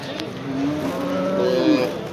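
A heifer at the Ozgon livestock market gives a long, close, rising moo lasting about two seconds, with faint crowd murmur behind.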